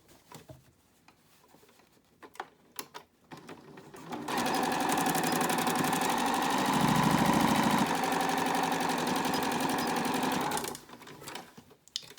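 Sewing machine stitching a fabric face mask, a brief quiet patter and then a loud steady whirring run of about six seconds that stops abruptly.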